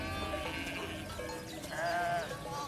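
Sheep bleat within a flock watched over by guard dogs, several wavering calls overlapping at close range against steady background noise, with no talking.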